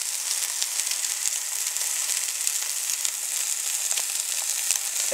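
Chorizo mince sizzles steadily in a pan, a dense crackling hiss with a few sharp pops, close and continuous with no talk.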